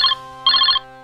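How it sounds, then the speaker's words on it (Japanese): A telephone rings in two clear electronic bursts, loud and close, with a steady tonal hum continuing between and after them. "僕が連絡していた不動産会社の担当者から電話があったんだよ"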